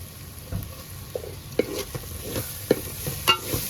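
Red chilli powder roasting in a pan over low heat gives a steady, soft sizzle, broken by scattered scraping clicks from stirring.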